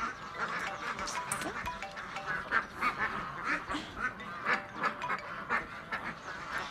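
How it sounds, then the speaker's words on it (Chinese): A flock of ducks quacks busily and repeatedly while being fed outdoors, the calls overlapping in a steady, fairly close chorus with a faint voice now and then. "我在喂鸭子呢"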